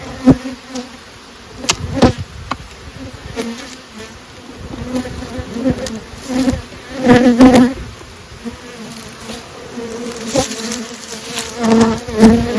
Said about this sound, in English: Honey super full of bees.